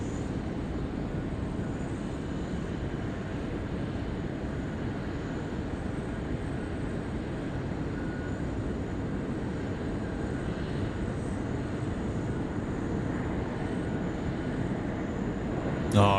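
A Qatar Cargo plane at Sydney Airport gives a steady, broad jet roar heard from a distance, holding at an even level throughout with no talk.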